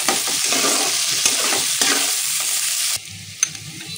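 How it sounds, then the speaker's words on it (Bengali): Chopped onion fries in a pan with a loud, dense hiss while a spoon stirs and scrapes it repeatedly; the sizzle drops suddenly near the end to a quieter simmer with one clack, and no one speaks. "পেঁয়াজটা ভালো করে নাড়াচাড়া করে একটু লাল লাল করে ভেজে নিতে হবে।"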